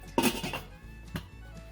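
A metal lid set onto a pot of candied orange, giving two quick clinks, the first louder, with a short metallic ring in a quiet kitchen and no talk.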